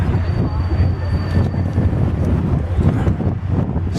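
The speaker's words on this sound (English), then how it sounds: "it's a little windy out here too" Steady wind buffets the microphone with a constant low rumble and roar, with no pauses and no voices, up on a castle hill near a chain bridge.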